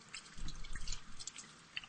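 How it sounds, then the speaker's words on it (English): A kitchen tap runs while hands are washed, giving soft, uneven splashing and dripping water close by, fairly quiet with no talking. "let me wash up real quick"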